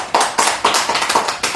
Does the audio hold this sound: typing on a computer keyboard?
no